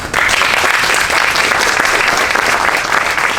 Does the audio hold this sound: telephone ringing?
no